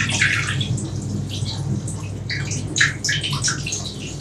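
Water poured into a bread dough mixture as a spring brunch is prepared, a steady splashing trickle close by with brief brighter gushes, heard alone without talk.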